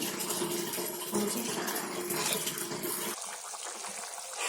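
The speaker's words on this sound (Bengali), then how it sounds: "পানি দিয়ে দিয়েছি" Water pours into a pan of loitta dried fish bhuna cooking with turmeric, chilli and coriander powders and ginger-garlic paste, making a close, steady splashing trickle that changes tone near the end.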